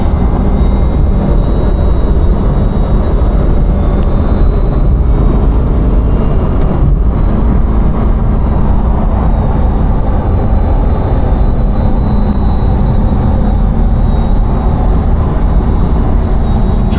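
A 2025 Corvette E-Ray driven on the street gives a constant loud drone of road and engine noise with a thin supercharger whine sitting high above it, steady throughout with no talk.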